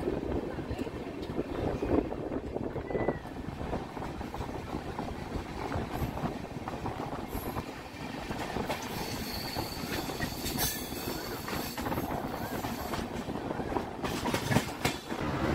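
The Rupasi Bangla Express rolls along the rails between Santragachi and Purulia with a steady, loud rumble and rhythmic wheel clatter throughout, brief squeals and a short word spoken over it.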